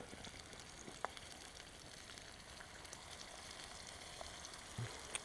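Minced steaks, onions and tomatoes frying on a bushcraft camp stove, a steady soft crackling sizzle heard close up and alone, with a few small pops and clinks.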